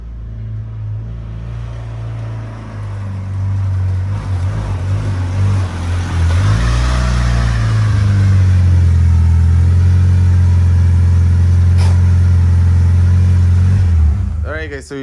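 A Fast and Furious replica Mitsubishi Eclipse drives under its own power in a garage, its engine rumbling loud and close, building as it revs and holding a steady drone before cutting off.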